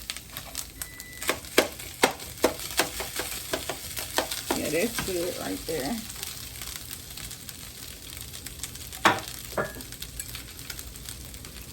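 Shrimp fried rice popping and sizzling in a pan, sharp crackles over a steady hiss with scraping stirs, and a voice speaks briefly.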